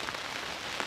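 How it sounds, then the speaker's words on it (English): Steady rain pours down on a surface outside a carp fishing shelter, a dense, continuous hiss at close range with no voices over it. "this rain doesn't seem to be easing or want to ease."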